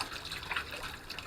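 Water flows steadily into a freshly dug garden pond as it fills, producing a soft, continuous gushing and trickling close by, with no talking.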